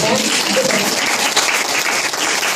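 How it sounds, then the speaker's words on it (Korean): An audience claps together at a church gospel testimony gathering, a dense, steady wash of applause with some voices mixed in, lasting the whole moment. "박수 한번 주세요"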